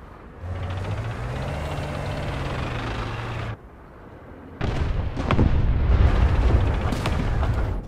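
A rocket strikes the rear of a tank in War Thunder with a heavy, loud boom that rolls on, following a long steady engine-like drone that cuts off, then sharp cracks and rumbling blasts close by.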